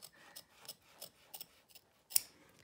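Scissors snip through fabric around an in-the-hoop embroidered zipper bag, sounding as a series of short, crisp cuts at an uneven pace, close and quiet, ending with one sharper snip.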